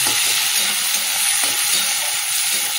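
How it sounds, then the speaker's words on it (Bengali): Chopped onion sizzles and crackles steadily in hot oil with black cumin seeds, a dense, even frying hiss close up and loud throughout, with no talking. "দেখি পেঁয়াজটা একটু লাল করে ভেজে নিই"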